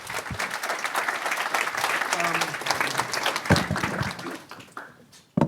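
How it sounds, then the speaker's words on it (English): Audience applause at an annual forum session follows the end of a panel conversation, a dense, sustained clapping that fades toward the end, with a voice briefly audible over it. "Let's give it a round of applause."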